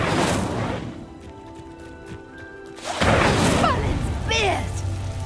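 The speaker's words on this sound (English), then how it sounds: "The flames make the pyre sink." An Incendio fire spell in Hogwarts Legacy ignites a pyre with a sudden loud whoosh midway, then a sustained roaring crackle of flames and swirling magical tones after a quieter ambient stretch.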